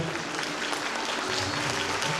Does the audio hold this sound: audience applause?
yes